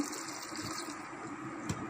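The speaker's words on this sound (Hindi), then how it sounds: "2 गिलास इसमें पानी के डाल देंगे।" Two glasses of water pour into a pot of keema with potatoes, a short, close, continuous splashing gush with a small clunk near the end.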